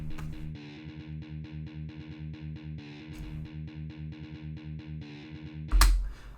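A quiet, distorted guitar plays a choppy, rhythmic intro riff, a fast pattern of short muted notes and accents, ending in a brief noisy burst.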